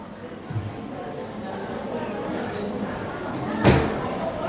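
A door in a room where a talk is under way thuds shut once near the end, a short solid knock-like closing sound over a background of murmuring voices.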